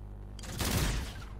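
Rifle gunfire in Call of Duty: Infinite Warfare: a quiet lead-in gives way to a loud, dense burst of rapid shots that rattles for most of a second, then fades into a short tail.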